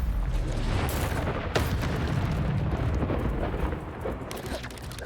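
A Confringo blasting spell exploding in Hogwarts Legacy, a loud dense roar of blasts and rumbling debris with a sharp crack partway through that slowly fades.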